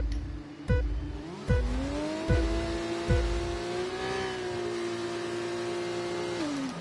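F1 race cars launch from the grid at a race start in the F1 24 video game, a rising engine whine under repeated sharp gear-shift thumps, then a sustained high-revving drone as the cars accelerate away.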